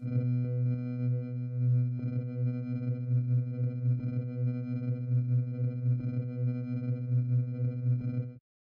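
Dawesome Myth synthesizer playing a sustained droning tone with edited LFO shapes, its steady harmonic layers pulsing in a regular rhythm roughly once a second, fairly loud and alone before cutting off abruptly.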